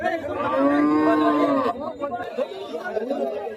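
A loud, drawn-out moo from a desi cow for nearly two seconds, followed by busy crowd chatter and livestock noise of a cattle market.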